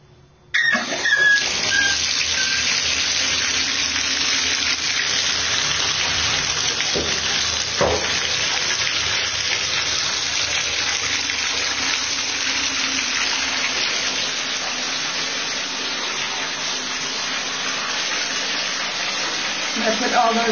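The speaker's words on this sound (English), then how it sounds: "so I'm going to fill the bathtub" Bathtub in a Manhattan apartment filling from the tap, a steady loud broadband rush of water that starts abruptly and runs unbroken throughout, with a faint squeal near the start.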